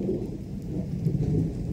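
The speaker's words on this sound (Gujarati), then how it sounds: "ગાજે ફૂલ સંભળાતો હોય છે તમને." Thunder rumbling low and continuous through a steady rainstorm, with rain pattering on surfaces over a wheat field at dusk, loud and unbroken without speech.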